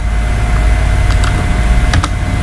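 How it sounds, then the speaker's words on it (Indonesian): Keys tapped on a computer keyboard while editing a logo in Photoshop: two quick pairs of soft, faint clicks over a steady background hum. "Selanjutnya tinggal kita tekan delete pada keyboard"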